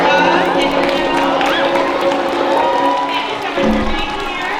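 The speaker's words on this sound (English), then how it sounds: "Give him a round of applause" A school assembly audience cheers and claps for the district superintendent, a loud, steady crowd roar with shouting children that runs for several seconds and then fades slightly.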